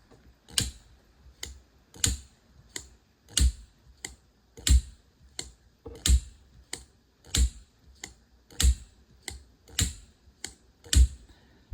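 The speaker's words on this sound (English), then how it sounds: "Sounds like an automatic knife." An American-made automatic knife fires open and snaps closed again and again. Sharp metallic clicks come in quick pairs at a steady rhythm of about one every second, close and crisp against silence.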